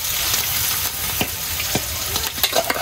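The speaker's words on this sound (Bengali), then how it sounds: "আমি এখন ভাজতে দিয়ে দিই।" Shrimp coated in a spice and oil mix fry in a pan, giving a loud, dense, continuous sizzle with a few scattered pops and stirring scrapes, heard up close without talk.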